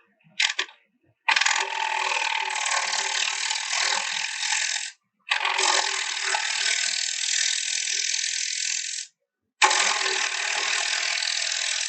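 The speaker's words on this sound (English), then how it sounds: "I'm going to use my U-shaped bowl gouge just to clean it up even more" A U-shaped bowl gouge cuts a wooden bowl spinning on a lathe, making three long, loud, even passes of rough, raspy shearing noise separated by short silences, preceded by a brief burst.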